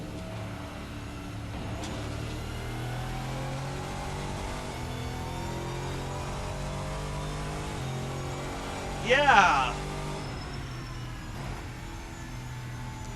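A V8 race car engine in the Assetto Corsa sim, the Race Sim Studio GT-M Lux with about 460 horsepower, drones and revs with a throaty tone, rising in pitch and swelling briefly louder near the end while a voice talks over it.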